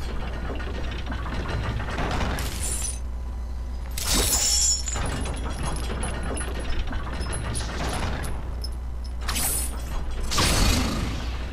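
In God of War: Ascension, a game mechanism fires a bolt upward. Creaking, ratcheting gear sounds are heard with several sharp shattering bursts, and no voices.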